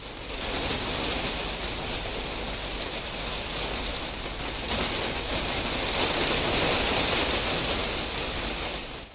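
Rain from an educational water cycle animation: steady, dense hiss of falling rain, loud and continuous throughout without breaks or voices.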